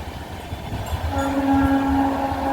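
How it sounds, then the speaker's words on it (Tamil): A train passes below a hill with a low, continuous rumble, and a sustained horn-like tone rises above it partway through. "இங்கேருந்து கீழே பார்த்தீங்கன்னா உங்களுக்கு ட்ரெயின் போகிறது தெரிஞ்சு பாருங்கள்"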